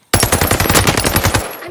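Loud close machine-gun fire in a video game, one continuous rapid burst of evenly spaced shots that starts abruptly and lasts well over a second.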